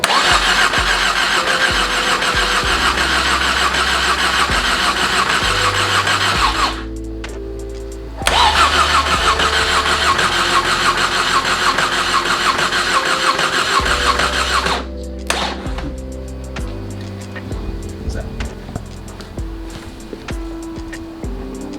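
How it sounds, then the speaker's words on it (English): A car engine with a stuck-open fuel injector cranks loudly in long, even churning bursts, pausing briefly between tries, then settles into a rougher, lower running sound near the end. "I'm gonna crank it now, and then until I think I get oil pressure"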